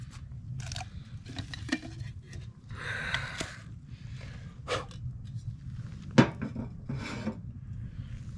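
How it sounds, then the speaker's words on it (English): A metal kettle set on a cheap portable hot tent stove, with scattered clanks, scrapes and metallic knocks of cookware against steel over a low steady rumble, close and moderately loud. "I'm gonna throw my kettle on too"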